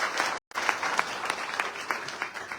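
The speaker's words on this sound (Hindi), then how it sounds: "मैं चाहता हूं उनके लिए जोरदार तालियां" An indoor audience claps loudly and steadily at a business gathering, a dense sustained round of applause with a brief dropout near the start.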